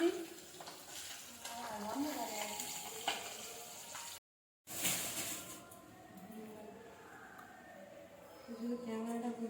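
Food sizzles and fries in a pan while a utensil stirs and scrapes it in irregular strokes, close by and moderately quiet, with a short break midway and a voice speaking at times.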